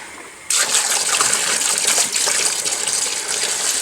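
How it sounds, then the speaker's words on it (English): Water gushes steadily from a slow-running faucet into a new gallon jug, starting abruptly and holding a constant close, splashy hiss to the end. "My faucet's running really slow, so I'm waiting for the water to fill up."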